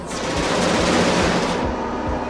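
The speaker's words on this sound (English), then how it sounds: "the turrets can be really effective against most aliens" Defense turrets fire at aliens in the space game Genesis Alpha One, producing a dense, continuous barrage of rapid gunfire that stays loud throughout with no talking.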